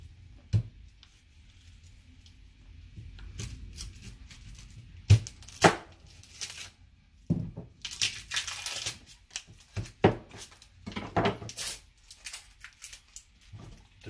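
A knife chops through half an onion on a cutting board in a home kitchen, giving irregular bursts of sharp close knocks and crunchy slices separated by short pauses.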